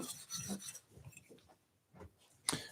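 A woodworking tool sharpened with a twisting motion on a diamond card, a faint close rasping scrape in short, uneven strokes with pauses and a sharper scrape near the end, no talking.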